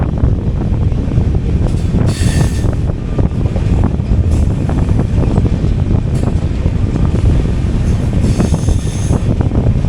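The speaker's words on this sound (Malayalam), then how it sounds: "അപ്പോൾ അതായിരുന്നു മൈസൂരു ബാഗൽകോട്ടെ ബസവ എക്സ്പ്രസ്." Mysuru–Bagalkot Basava Express rolling past at close range, a loud, steady rumble of wheels and carriages with bursts of wheel squeal and wind buffeting across the whole span.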